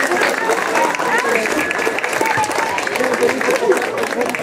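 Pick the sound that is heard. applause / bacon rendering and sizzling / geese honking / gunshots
applause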